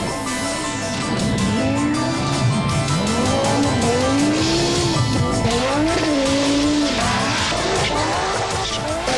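A 1985 Audi Quattro rally car sliding on the Pikes Peak hill climb, its engine roaring and revving with repeated tire squeals as it swings from side to side, loud and continuous.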